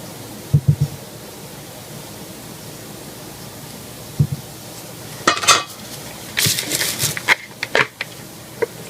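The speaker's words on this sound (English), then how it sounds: "I'm just scrape the last out of this bucket with the help of my spoons" Spoons scrape the last cold-process soap batter out of a bucket, giving scattered, faint scrapes and clinks after a quiet stretch, with a cluster of louder scraping strokes toward the end.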